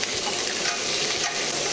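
Meat sears in a pan on high heat, a loud continuous crackling sizzle that stays steady and close throughout, with no voices.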